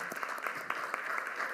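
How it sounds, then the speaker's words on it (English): Applause from an audience at a school district State of Schools address in Philadelphia, a steady wash of many hands clapping at moderate distance, dense and continuous with a few sharper individual claps standing out. "Let's give that a big round of applause."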